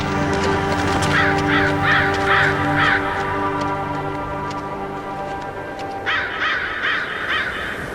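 Crows caw in a late Scandinavian winter wilderness: a run of four harsh, evenly spaced calls, a pause, then another quick series of four, loud and close over a steady background.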